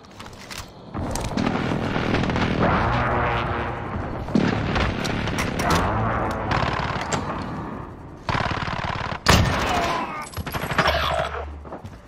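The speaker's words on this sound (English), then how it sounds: "Enemy precision airstrike inbound." Heavy gunfire and booming blasts from a Call of Duty multiplayer match, with a precision airstrike, run loud and nearly continuous for about twelve seconds, with bursts, sharp cracks and rumbling impacts.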